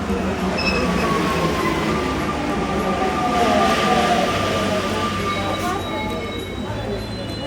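A Paris metro train rumbles past at close range, a loud continuous rolling roar with squealing wheels and screeching metallic tones, voices faintly audible underneath.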